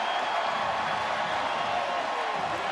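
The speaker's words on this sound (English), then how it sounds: "And listen to the crowd." Stadium crowd at a 2007 USC versus Notre Dame college football game, a steady broad roar of cheering with no pauses.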